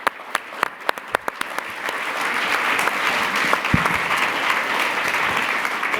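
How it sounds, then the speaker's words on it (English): A panel audience applauds after a speaker is called to the stage, starting as a few sharp separate claps and quickly building into dense, sustained clapping from a crowd filling the room. "Let's give a round of applause, please, to Camille."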